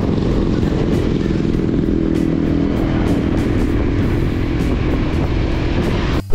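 A Honda PCX 160 scooter cruises along a road near a windmill farm in Pililla, Rizal, its engine droning steadily under loud, continuous wind rush.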